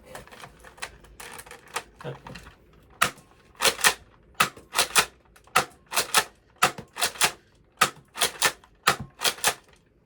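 A Nerf Fortnite DG blaster slam fires darts in a rapid series of sharp, loud clacks, about a dozen shots in quick bursts after some softer mechanical handling noises.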